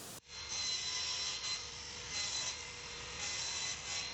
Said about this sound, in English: take the cut-off piece and cut a 45 on the side of your last cut